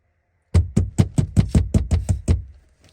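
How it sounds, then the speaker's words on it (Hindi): Roughly nine sharp knocks on a door, close and loud, strike in a quick, even rhythm and then stop, with no voices. "किया खटखटा रहल छियै?"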